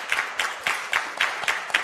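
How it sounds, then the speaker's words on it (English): Clapping at a startup event, heard as sparse, evenly spaced claps from a small group at a moderate distance, each burst sharp and bright, ending soon after it starts. "please a round of applause for Rebecca."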